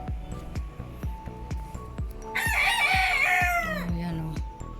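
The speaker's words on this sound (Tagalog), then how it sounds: "maingay na manok." A rooster crows loudly and close by in a long drawn-out call on a rooftop in the morning, over a steady run of rhythmic knocking or tapping.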